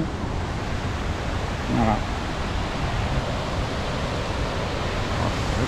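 At Pont d'Espagne in the Pyrenees, a waterfall roars in a steady, full, hissing rush, loud and close, and a voice speaks briefly over it.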